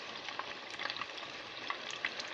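Chinese chicken balls sizzle and crackle steadily frying in a hot pan, with small popping bursts over a continuous hiss.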